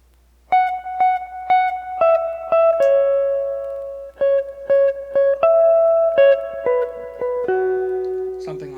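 Clean electric guitar plays a melody in a lead style, a steady run of single picked notes with some repeated pitches and a brief pause midway, close and solo without talk.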